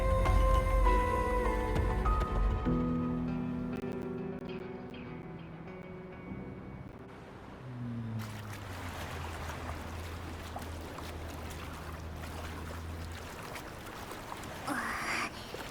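A boat in the video game Wuthering Waves accelerates and sets off, its rising engine and water rush building after about eight seconds beneath a layer of game music with tonal melodic lines.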